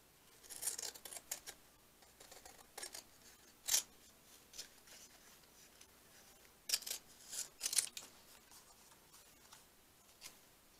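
A paper hanging tag being cut by hand with scissors in a quiet room, heard as scattered short snips and clicks at irregular intervals, some in quick clusters, close but soft, with no talking.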